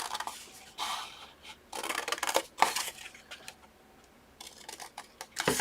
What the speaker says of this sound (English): we're going to take some scissors and you're going to cut off 1, 2, 3, 4 boxes on the bottom right